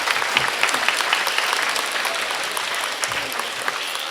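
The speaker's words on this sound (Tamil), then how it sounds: "இவருக்கு நல்ல கைத்தட்டல் கிடைக்கிறது." Steady audience applause at a village devotional gathering in Srivilliputhur honoring the goddess Andal, with dense continuous clapping from a crowd, fairly close and sustained throughout with no talk.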